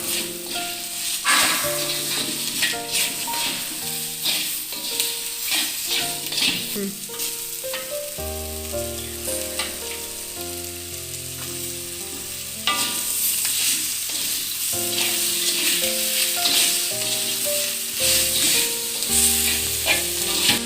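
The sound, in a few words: lemons stirred while cooking lemon and dates pickle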